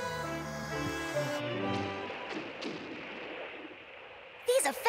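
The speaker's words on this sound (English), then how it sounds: "You can practically smell smoke for real every time they fire their cannons." Cartoon pirate ship cannons boom a few times in quick succession, with a musical tone fading out first and a sharp burst at the end, all fairly loud in a kids' animated show.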